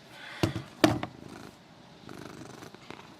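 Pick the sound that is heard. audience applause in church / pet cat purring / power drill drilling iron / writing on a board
pet cat purring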